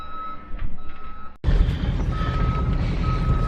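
A skid loader backfilling a trench sounds steady, repeating reversing beeps over a loud, rumbling diesel engine that swells suddenly partway through and then holds close and heavy.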